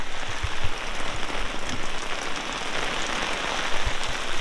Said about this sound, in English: It's raining really good.